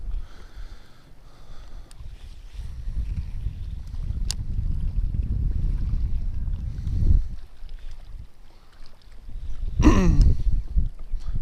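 Strong wind gusting across open water during a bass fishing outing near a dam, a steady low roar of buffeting with louder gusts around the middle and near the end.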